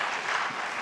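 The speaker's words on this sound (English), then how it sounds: "Can we please hold the applause?" A brief burst of steady audience applause at a televised presidential debate, a dense crowd clatter heard alone for under a second.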